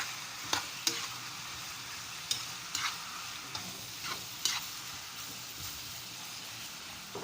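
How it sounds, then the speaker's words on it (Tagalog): Chicken liver, heart and gizzards are stirred in a pan under a soft, continuous fry, with sharp spatula scrapes and taps landing at irregular intervals, close and fairly quiet, no talking. "Haluin lang natin."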